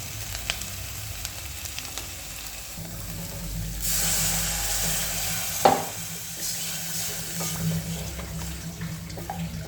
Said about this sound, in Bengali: এই যে আমি আলুটা দিয়ে দিলাম